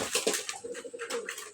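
Domestic pigeons coo close by in a soft, throaty, continuous murmur of overlapping calls, with no one talking.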